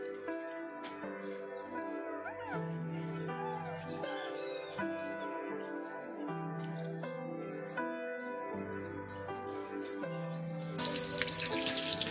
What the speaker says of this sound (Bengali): মাছগুলো আমার কাটা হয়ে গেছে সব, এবার পরিষ্কার করে ধুয়ে দেবো।